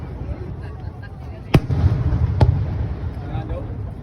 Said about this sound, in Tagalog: Tinatawag nilang Hanabi or fireworks dito.